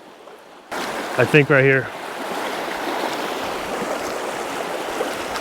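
A river current runs over rocks at a crossing point in the Angeles National Forest, a steady broadband rush that starts abruptly and continues to the end, with a brief spoken remark near the start.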